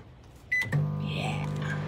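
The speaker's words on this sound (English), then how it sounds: "Can you see if the microwave works?" A microwave oven in a campervan on shore power beeps, its door clunks, then it starts up with a steady electric hum that continues to the end, close and clear.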